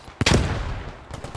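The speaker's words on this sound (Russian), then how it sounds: "там снайпер убирает. Он прям сквозь кусты бьет" A sniper rifle fires through bushes in the WWII shooter Post Scriptum. One loud, close gunshot cracks out, then a long, rolling echo decays behind it, with fainter distant shots near the end.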